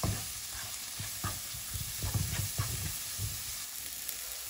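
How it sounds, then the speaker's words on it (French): Tomatoes with ground coriander and cumin sizzle in a pan while being stirred for a squid curry, a steady close fry broken by repeated scraping stir strokes, with no talk. "Je mélange bien l'ensemble, je diminue légèrement la température, puis j'attends la cuisson des tomates."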